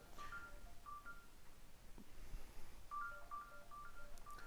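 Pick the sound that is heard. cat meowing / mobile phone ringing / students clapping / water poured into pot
mobile phone ringing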